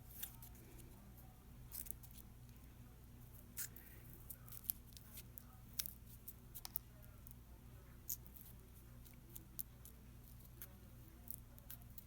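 Scissors cut through thick painted paper, heard as faint, scattered snips and crisp clicks over a low steady hum, with no talking.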